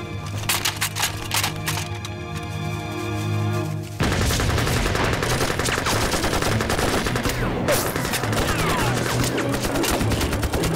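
Sustained gunfire and machine gun bursts from a war drama battle against Japanese troops, starting with a rattling volley, then a dense, loud, continuous fusillade with overlapping shots filling the rest.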